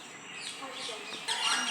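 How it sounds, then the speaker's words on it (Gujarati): Birds at a park aviary holding pigeons give soft, scattered chirps and calls at a moderate distance against a quiet outdoor background, growing busier toward the end. "આમાં કબૂતરો છે"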